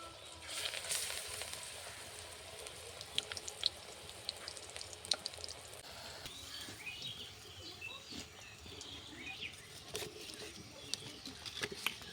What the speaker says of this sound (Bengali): ভাজা হয়ে গেছে, এবার আমি তুলে নেব।